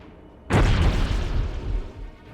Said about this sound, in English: What is that explosion?